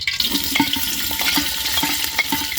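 Chicken curry frying in hot oil with onion, garlic and spices, a steady close sizzle with repeated scraping stirs in a quick irregular rhythm, no talking.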